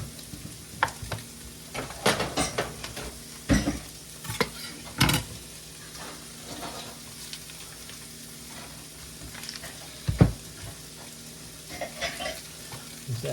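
A big chunk of butter sizzles and crackles as it melts in a heating pan for cooking homegrown oyster mushrooms. A steady frying hiss runs underneath, broken by sharp clacks and scrapes of a utensil against the pan.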